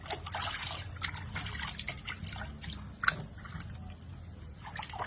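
Water trickles and splashes steadily while a pet is bathed, washing belly and tail, with soft drips and one sharper splash midway, faint and close.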